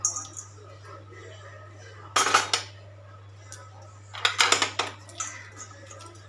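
Hot tempering is poured into a pot of sundal and stirred in, giving bursts of metallic clatter and scraping from a spoon against the pot, two busy clusters separated by quieter stretches over a low steady hum.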